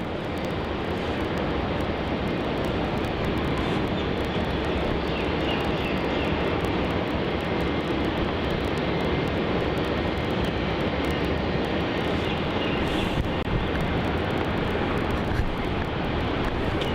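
A Singapore Airlines Boeing 777 on its arrival into Melbourne Airport, a steady, loud broadband jet engine roar that holds constant throughout with no voices.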